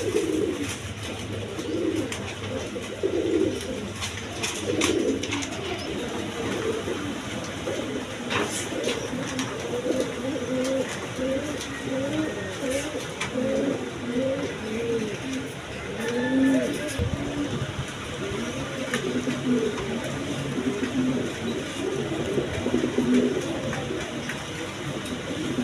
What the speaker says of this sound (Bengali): এক পেয়ার ইন্ডিয়ান কাগজি কবুতর আছে